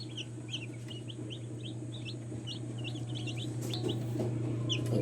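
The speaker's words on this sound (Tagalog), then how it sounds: "Ito yung mga de-old na sisiw na sinasabi nila. Bagong pisa." Newly hatched chicks, wings still wet, give rapid high peeps that come thick and close over a steady low hum from an incubator or hatchery room.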